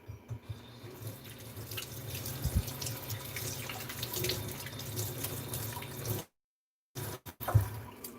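Water poured from a tap or container onto soil in a potted plant, a steady close splashing and trickling rush that runs for several seconds, then cuts off with a few brief drips.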